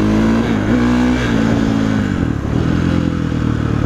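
A KTM 450 SXF dirt bike engine revs hard and close, a loud, steady buzzing drone that holds high before briefly dipping and picking back up.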